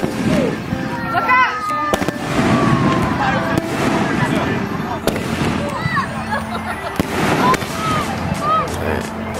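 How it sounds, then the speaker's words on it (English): Rapid New Year fireworks crack and pop in dense bursts, some whistling upward, with excited voices shouting throughout. "Jeez, they got some serious fireworks."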